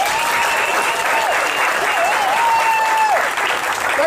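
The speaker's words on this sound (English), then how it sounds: "Please give him a warm round of applause." Audience applause at a speaking event, a dense continuous wash of clapping heard throughout, with a tonal whistle or cheering voice rising and falling over it.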